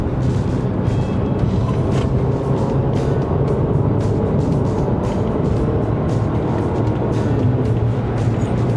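2009 Audi Q5 2.0 TFSI quattro with its engine droning steadily from inside the cabin as the paddle shifters are worked, a constant low rumble with road noise and no clear gear-change breaks.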